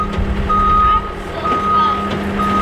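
Repeated electronic reversing beeps from a track loader, evenly spaced about once a second, over a steady low engine rumble.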